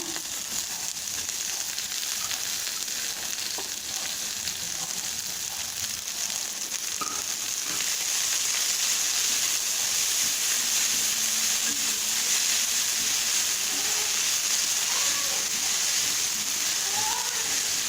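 Coriander leaves fry with sautéed onion, green chilli and ginger in a hot pan, giving a steady, moderately loud sizzle that crackles continuously without pause.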